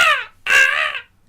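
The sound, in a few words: person imitating a seagull call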